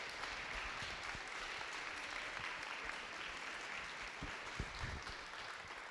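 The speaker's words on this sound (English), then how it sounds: "they deserve a round of applause." An audience applauds in a school classroom, producing a steady, even wash of clapping that is faint and somewhat distant and continues without pause.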